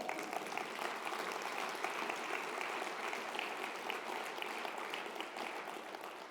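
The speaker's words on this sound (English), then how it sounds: "Let's give a round of applause for that." An audience at a freedom rally applauds steadily for several seconds, a dense even wash of clapping hands with no voice heard above it, fading only slightly near the end.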